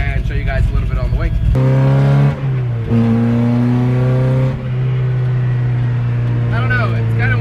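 Honda CRX car cruising on a road, its engine droning steadily with rising and shifting tones as it accelerates, loud and close from inside the car, with a person talking over it at times.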